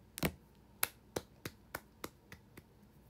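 Sharp, hand-made percussive hits in an indoor livestream room, about eight separate strikes in an uneven rhythm, close and moderately loud.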